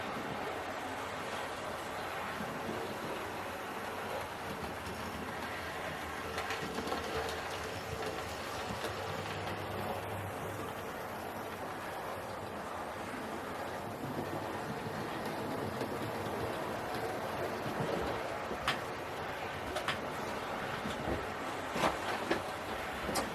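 A Hornby model locomotive runs around its track with a steady, low mechanical hum and rolling whir that stays at an even moderate level, with a few faint clicks over the rails; no talking.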